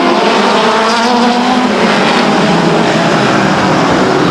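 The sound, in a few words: midget race cars starting a 40-lap race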